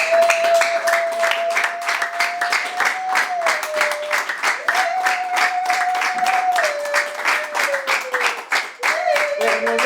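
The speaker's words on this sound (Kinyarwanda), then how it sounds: "tubashimire dukoma Imana amashyi" An audience at a theology graduation ceremony gives sustained, dense applause with a fast, even rhythm, while a sustained voice or tone carries above it.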